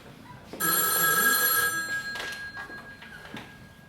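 A telephone rings indoors in a single loud burst of bright electronic trilling lasting about a second, then fades as faint movement and a soft knock follow.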